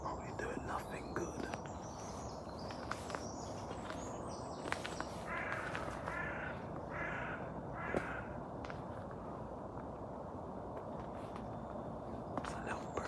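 Out in the fields, a small bird gives a short series of harsh, cawing calls, four or five spaced notes over a few seconds, fairly faint over rustling and hushed background noise.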